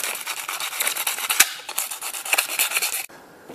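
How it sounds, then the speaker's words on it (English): Sandpaper scuffing plastic handle parts for a bag sealer repair, a close, rough rasping rub in quick back-and-forth strokes with a sharp click midway, then stopping abruptly. "just roughing these up with a bit of sandpaper and we'll glue them on"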